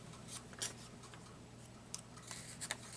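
Scissors snip through paper while a planner page is being trimmed, a few short crisp cuts scattered over a quiet steady background hum, close and fairly soft.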